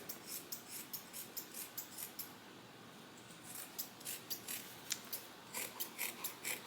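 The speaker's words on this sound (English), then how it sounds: "just cut down or up depending on how you have it, and then cut your seam allowance" Scissors snipping through fabric to cut the seam allowance for a bag, a close, crisp run of rhythmic cuts with a brief pause midway before the snipping resumes.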